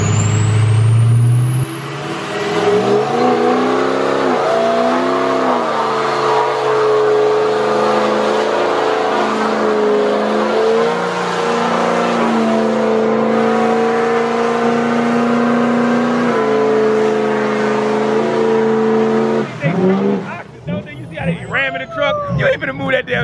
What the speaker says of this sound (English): Ooh, that sounds like a diesel.